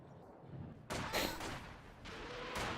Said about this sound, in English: Panzerwerfer barrage somewhere.